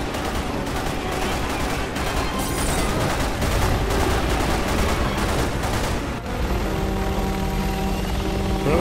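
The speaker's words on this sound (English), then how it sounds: "They're all shooting him." Dense, sustained gunfire from a crowd of enemies in Resident Evil 6, loud and continuous over a droning helicopter-like engine, with the firing easing after about six seconds.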